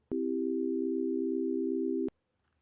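A synthesized sum of sine waves, including a 392 Hz tone, plays as a single steady electronic hum of about two seconds, starting and stopping abruptly with a faint click.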